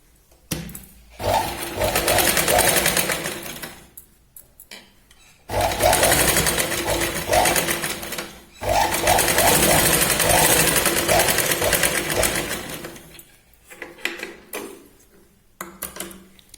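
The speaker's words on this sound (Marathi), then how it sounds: "आपल्याला दुसरी पण शिलाई इथे लावून घ्यायची" A sewing machine runs while stitching a katori blouse, in long steady whirring bursts with a fast mechanical needle rhythm, separated by short pauses, loud and close.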